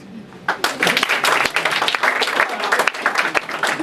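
A comedy-night audience at Purdue University's Vienna Coffee House breaks into dense, sustained applause that stays loud and steady for the whole stretch, with a voice briefly audible through it.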